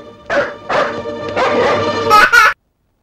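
Several short, sharp dog barks in close succession, loud and near, ending abruptly.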